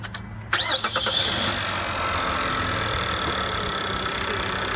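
A car engine cranks briefly, catches after a jump start from a Beatit G18 lithium-ion 2000-amp 12V portable jump starter, and settles into a loud, steady idle with a high whine.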